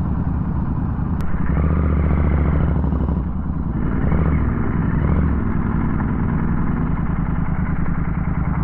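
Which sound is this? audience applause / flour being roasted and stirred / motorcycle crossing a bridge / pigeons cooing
motorcycle crossing a bridge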